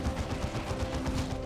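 Rapid, dense gunfire from the real-time strategy game Dawn of War 2: Retribution, with Paladins firing wrist-mounted cannons. A continuous rattle of overlapping shots fills the short stretch at steady loudness.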